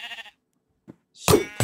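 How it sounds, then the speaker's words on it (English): A sheep in the video game Minecraft bleats loudly near the end of a short stretch, preceded by a faint earlier bleat and a small tap amid near silence. "Why do you do oof, sheep?"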